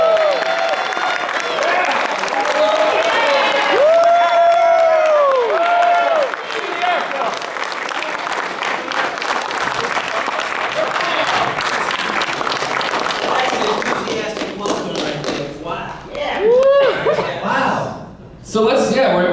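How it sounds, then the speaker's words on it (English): A large audience at a live event cheers and applauds loudly and continuously, with whoops and scattered laughter, tapering near the end as a voice speaks. "So, make some noise, everyone."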